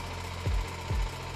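Used Kawasaki Ninja SL Mono motorcycle, stock engine, idling at a used motorbike dealer with two low thumping pulses over a steady faint rumble.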